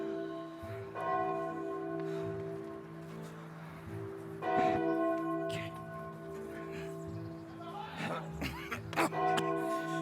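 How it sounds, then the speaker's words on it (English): A church bell rings repeatedly amid a staged Othello scene, its sustained, strongly harmonic tolls layered over raised voices and stage commotion throughout. "Oh, who's that which rings the bell?"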